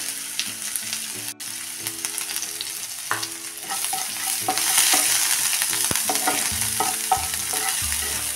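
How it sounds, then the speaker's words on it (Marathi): Turmeric, crushed ginger, garlic and green chili sautéing in hot oil in a pan, a close sizzle with repeated scraping stir strokes and small clatters of the utensil against the pan, with no talking. "थोडीशी हळद आणि ठेचलेलं आलं, लसूण, हिरवी मिरची पहिल्यांदा यामध्ये टाकून परतून घेऊया"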